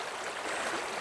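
Creek water running through a park, a steady, close, continuous rushing flow with no speech over it.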